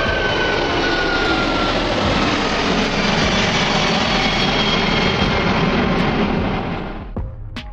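Large airliner jet engines at take-off: a loud, steady broadband roar that holds for about seven seconds, then eases slightly near the end.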